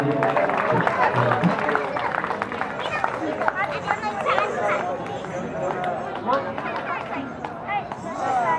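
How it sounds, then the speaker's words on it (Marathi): An audience claps for a singer at a Marathi song gathering honoring performers, steady applause blending with crowd chatter, and a voice talks over it. "जोरदार टाळ्या प्रतीक दादासाठी झाल्या पाहिजेत."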